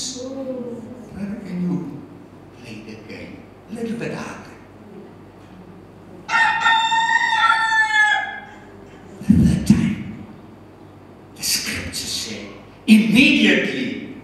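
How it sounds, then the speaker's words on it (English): A rooster crows once, a loud, drawn-out harmonic call with a rising and falling shape, played during a church sermon. Bursts of speech and room noise come before and after it. "immediately the cock crowed"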